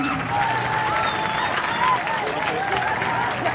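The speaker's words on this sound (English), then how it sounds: "Big round of applause for our winners" A crowd at a gaming competition prize-giving applauds its winners with steady, continuous clapping, while thin tonal sounds float faintly in the background.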